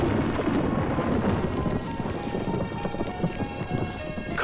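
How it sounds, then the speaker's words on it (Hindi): A heavy storm with dense, steady rain pounding down and deep rumbles of thunder rolling underneath, loud and continuous throughout. "कमाल का तूफान आया यहां"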